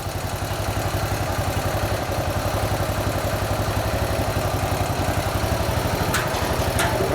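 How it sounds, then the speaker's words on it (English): A motorcycle engine idling inside a room, a steady close loud chugging pulse that runs throughout, with a couple of sharp metallic clicks near the end. "That's because there's a bike running in here."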